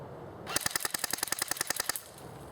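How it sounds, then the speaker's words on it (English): A JG 608 Mk36c airsoft electric gun fires one fast full-auto burst of roughly fifteen close, sharp rattling shots, loud and near, lasting about a second and a half, with no speech. "I'm going to put it on full auto, and we're going to see what we get on a rate of fire test"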